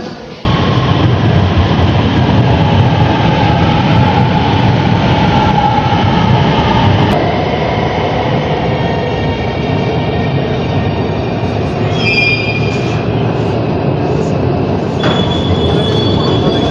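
A train arrives at a station with a loud, continuous rumble of wheels and carriages, faint squeals rising late on, and people's voices in the background.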